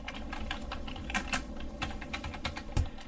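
Quick, steady typing on a computer keyboard while entering an ADB command, with a run of close, crisp key clicks and a few heavier strokes, no voices.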